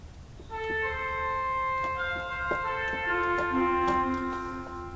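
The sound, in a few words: pipe organ, swell trumpet stop with 8-foot principal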